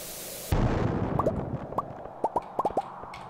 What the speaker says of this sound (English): Oh, the bomb? Okay, we're gonna put bomb down here.